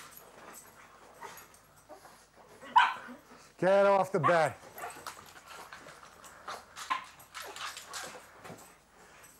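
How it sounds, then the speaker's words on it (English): A dog barks and whimpers excitedly indoors in a home bedroom, with a burst of loud, close barks in the middle and softer whines around them, while a person talks over it. "Dog's happy to see me."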